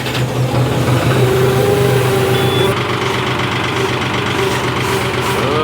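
A cold John Deere tractor diesel engine cranks and catches, then runs with a rough, loud, steady idle and a faint whine, close by with no talking.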